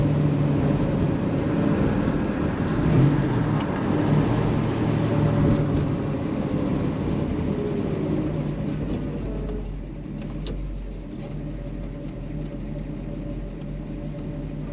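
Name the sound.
1968 Chevelle SS 396 driving in first gear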